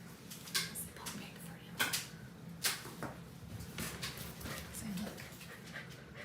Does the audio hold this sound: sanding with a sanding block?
no